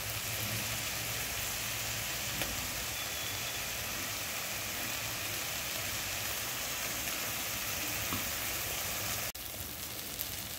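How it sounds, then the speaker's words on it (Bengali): A paste of ginger, garlic and dried chili fries on softened tomatoes in a pan, giving a steady, dense sizzling hiss that holds throughout with no talk and one sharp click near the end. "বেশ, মশলাটা ভাজা হয়ে গেছে"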